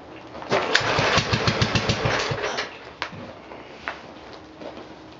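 A 1948 L engine being cranked and failing to start, a rapid chugging series of compression beats for about two seconds, then a few isolated coughs and clicks as it dies away.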